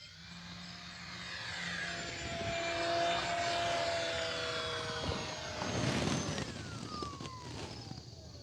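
A Horizon Hobby P-51D June Nite V2 RC warbird with a 1.2 m wingspan drones overhead, its electric motor whine swelling and fading as it passes, with a rising and falling pitch sweep.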